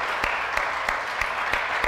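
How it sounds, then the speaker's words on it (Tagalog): Church congregation clapping together in a steady, even rhythm, about six sharp beats spread evenly across the stretch, with a soft crowd wash underneath. "Palakpakan natin ng Lord."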